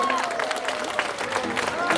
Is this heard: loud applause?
yes